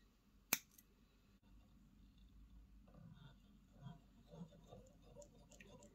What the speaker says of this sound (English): I'm going to use my bad scissors to cut it.